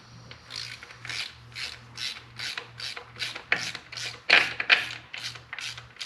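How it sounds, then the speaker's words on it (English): A 1/2-inch ratchet wrench on a 9/16 nut loosens the primary chain tensioner of a Harley-Davidson motorcycle, giving about a dozen steady rhythmic clicking strokes, close and fairly quiet, with no talk. "First thing we want to do is loosen the chain tensioner."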